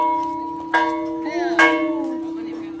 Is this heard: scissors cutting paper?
no